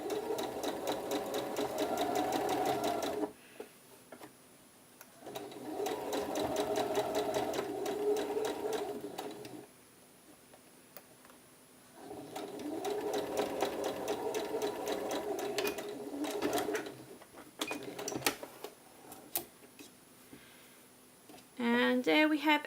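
A domestic sewing machine stitches a flat felled seam on the front of a Madison blouse, running in three long steady bursts separated by pauses, with a shorter burst near the end.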